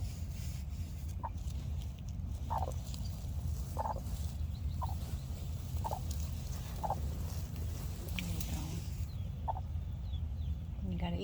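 A broody hen gives a series of short, low clucks at a steady pace, close by over a constant background hum.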